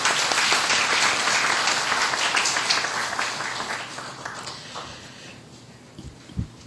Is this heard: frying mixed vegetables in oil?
no